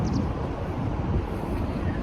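Steady wind roars and buffets against the microphone, a continuous low rumbling gust with no pauses.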